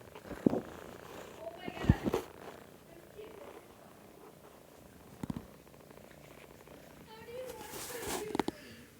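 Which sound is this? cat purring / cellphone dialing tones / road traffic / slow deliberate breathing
cat purring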